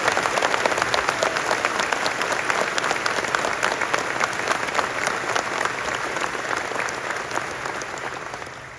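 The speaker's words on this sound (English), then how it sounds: "can I again ask you to do another big round of applause there for Elaine?" Sustained applause from a large audience at an Irish citizenship ceremony, dense rapid clapping that holds steady for several seconds before beginning to taper off.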